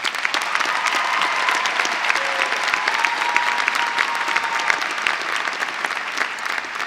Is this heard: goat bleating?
no